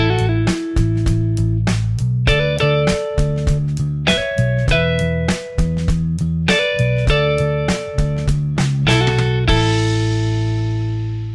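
Motown-style electric guitar licks with quick hammer-on notes played over a steady backing track, repeating phrases in a regular rhythm, loud and close, ending on a ringing note.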